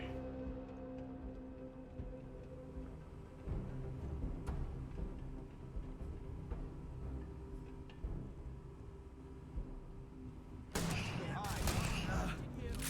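Shotgun blasts and gunfire in the sci-fi video game Starfield, a dense burst of loud shots erupting near the end after a stretch of quieter ambient game noise and background music.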